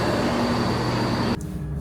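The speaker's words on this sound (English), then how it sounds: "We're on the train on the way to Newark now." Steady rumbling interior noise of a passenger train travelling toward Newark, constant and fairly loud, with a sudden drop in level near the end as if the surroundings change.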